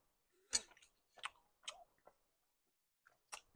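Someone chews bacon close up in a quiet room, with a handful of separate crunchy bites spread out and pauses of silence between them.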